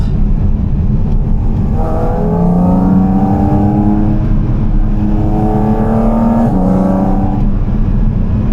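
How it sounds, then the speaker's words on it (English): A car approaches and passes close by, its engine tone rising then dropping, over steady loud road and wind rumble. "Car coming."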